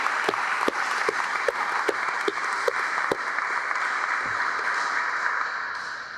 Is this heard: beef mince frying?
no